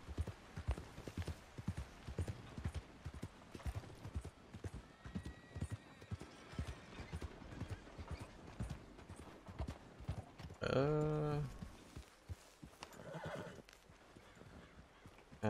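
Horse hooves clip-clop steadily in Red Dead Redemption 2, a continuous rhythmic clatter, broken by one loud whinny near the end, with faint speech in the background.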